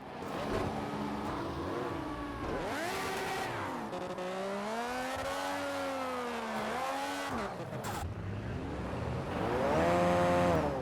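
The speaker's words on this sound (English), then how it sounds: "I know this is a drift car, I understand that." Drift car in Project Cars 2 racing game, engine revving up and down in long swooping pitches with bursts of tire squeal and skidding, loud and close, no talk.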